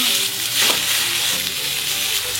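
A beef shoulder roast searing in a hot pan, sizzling loudly and continuously up close, with one brief stirring or shifting noise partway through and no talk.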